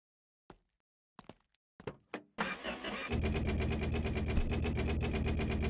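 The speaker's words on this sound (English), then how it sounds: "Perfectly normal engine sound." A few clunks and a starter cranking, then a ramp truck engine catches and settles into a steady, loud idle close by.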